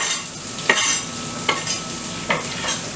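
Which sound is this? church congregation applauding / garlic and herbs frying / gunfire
garlic and herbs frying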